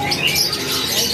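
Canaries for sale at the Pramuka bird market kiosk in Indonesia, a dense chorus of high chirps and tweets filling a busy, noisy market space without a break.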